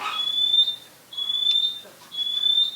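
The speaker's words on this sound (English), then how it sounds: "Uh-oh, I set one of the alarms off." A home smoke alarm going off in a house, with three loud, piercing high beeps in an even rhythm, each lasting about half a second with short gaps between, close by and alone.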